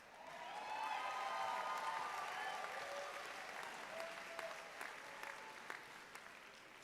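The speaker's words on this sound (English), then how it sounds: "Do not hold your applause to the end." Commencement audience applauding graduates at a law school ceremony, a broad sustained wash of clapping in a large hall with faint murmurs and scattered cheers, steady throughout.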